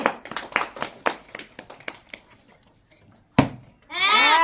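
Sharp hand claps count out a beat in a clapping game, a quick run of loud slaps that slows and thins, followed by one hard clap and a burst of high, excited voices.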